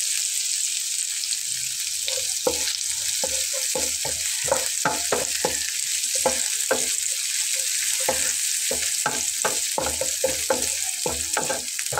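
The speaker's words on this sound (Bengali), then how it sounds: "তো দেখুন পেঁয়াজটা আমি একটু হালকা করে ভেজে নিচ্ছি।" Finely chopped onions frying lightly in a pan for a fish curry with eggplant, a steady soft sizzle broken by repeated scraping and stirring strokes, no voices.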